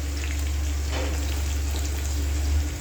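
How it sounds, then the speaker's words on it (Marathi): Green chilies and onion frying in hot oil, a dense, steady sizzle with a low hum beneath it, even and unbroken throughout. "आता मिरची तळून जाते आपल्याला आता कांदा टाकायचा याच्यामध्ये"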